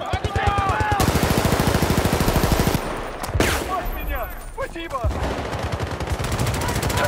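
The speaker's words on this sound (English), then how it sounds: "That's a shotgun." Shotgun blasts in a multiplayer shooter game, with dense bursts of gunfire in rapid succession, then a lull and further scattered shots, loud and up close.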